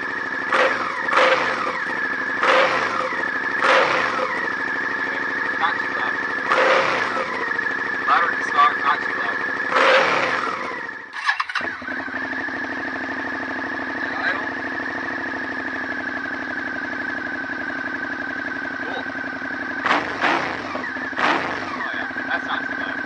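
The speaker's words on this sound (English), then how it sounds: "So let's do a quick startup, and we'll see how the new muffler sounds." A Suzuki SFV650 Gladius motorcycle fitted with a new fabricated muffler starts up and idles with a steady engine drone, with sharp blips of revving before and after a brief cutout.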